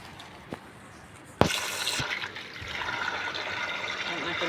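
A tap gushes water while saluyot and malunggay leaves are washed. A couple of small knocks come first, then a sudden, steady splashing stream continues to the end.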